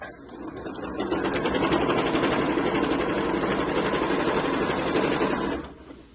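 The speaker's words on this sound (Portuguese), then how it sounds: "Vai costurar na sua máquina doméstica sem dificuldade" A domestic sewing machine stitches a travel bag, starting up into a steady, rapid mechanical whirring hum that runs for several seconds close by, then winds down and stops.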